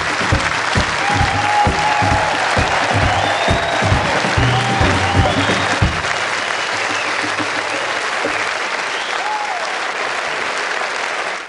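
A studio audience on a Canadian TV show gives loud applause to welcome a guest, with strong rhythmic clapping at first that fades into a looser, softer patter with faint background voices.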